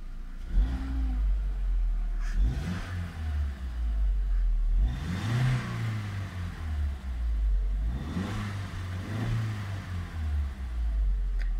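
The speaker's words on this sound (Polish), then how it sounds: "Ja przegazowałam" A 2000 VW Passat B5 sedan with a 1.6 MPI petrol engine, revved several times while stationary, each rev a rising roar that falls back to a low idle, heard fairly close with no talk.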